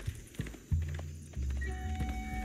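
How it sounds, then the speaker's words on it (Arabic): Horse hooves clip-clop in Age of Empires 4 as a mounted unit moves off. A few close, distinct hoof strikes land in an uneven rhythm, followed by game tones and sustained rumble. "أصعد على ظهر الحصان"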